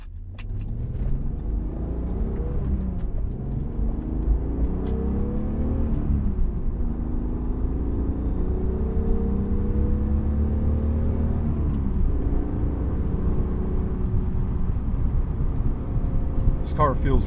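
A 1999 BMW M3 E36 being driven, its engine rising and falling through several gears in a steady in-cabin drone with rumbling road noise, plus a few faint clicks, while a voice talks over it.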